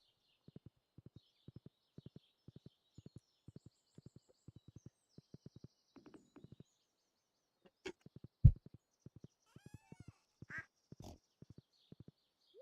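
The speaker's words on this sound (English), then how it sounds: "Come on, horse. You're coming with me." Soft, evenly paced clip-clop of horse hooves in a farming video game, repeating in short pairs with brief bird-like chirps and game effects scattered between.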